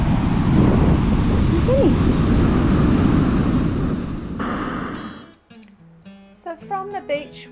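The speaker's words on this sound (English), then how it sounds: "It's windy, which I'm happy about." Strong wind blowing at a beach, a loud, steady broadband rush with gusts filling the first five seconds, then dropping away as voices talk over quieter surroundings.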